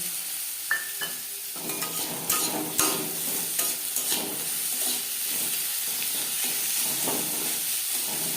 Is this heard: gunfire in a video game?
no